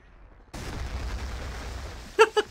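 Battlefield 2 artillery going off in a conquest league match: after a quiet moment a sudden heavy barrage erupts into a rolling, rumbling wash of blasts, capped by two sharp, louder cracks near the end.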